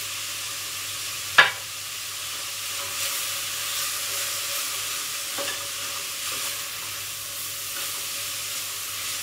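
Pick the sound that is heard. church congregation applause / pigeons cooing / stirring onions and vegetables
stirring onions and vegetables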